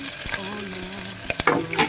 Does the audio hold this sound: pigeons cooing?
no